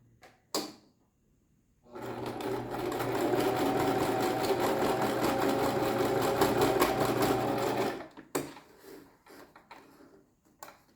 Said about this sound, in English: So the sewing of the zipper is done.